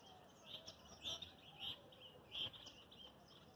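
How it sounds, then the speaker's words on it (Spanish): Small birds chirp faintly at the Cañaveralejo river reservoir, a few soft, scattered tweets over quiet outdoor ambience. "Con el sonido de los pajaritos nos despedimos de ustedes"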